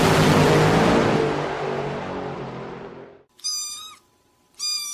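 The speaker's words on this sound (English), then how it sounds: "Oh, the sound of a tiny kitten." Tiny kitten meowing twice, high thin cries after a loud fading rush of noise, each meow short and close, with a brief gap between them.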